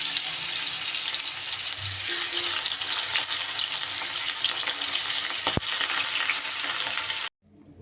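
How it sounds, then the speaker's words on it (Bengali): Fish sizzle and crackle continuously in a small amount of hot oil, a dense frying hiss with a brief sharp clink near the end before it cuts off. "মাছগুলোকে আমি সুন্দর করে ভেজে নেব"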